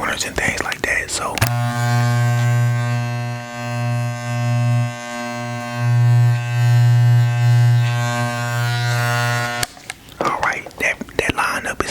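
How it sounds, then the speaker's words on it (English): T-liner hair trimmer switched on in a barbershop, a loud, steady electric buzz with a low hum that runs about eight seconds alone before cutting off, with whispering before and after. "that's what I use the T-liners for"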